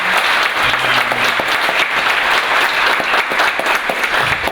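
Conference audience applauding, a dense, steady patter of many hands clapping that fills the room evenly from start to finish, with no talk over it.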